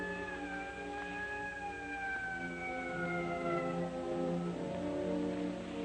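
Police sirens wail in long overlapping rising and falling tones, steady and moderately distant, a radio-drama sound effect with no voices over it.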